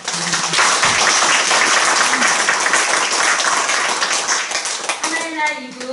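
Sustained audience applause at a Korean event on forgiveness and reconciliation, dense steady clapping that fills the room, with brief voices near the end.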